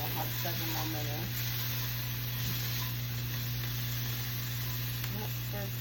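Steady sizzle of noodles being stirred in a stir-fry pan for mandarin teriyaki chicken, with a constant low hum and a few soft utensil scrapes throughout.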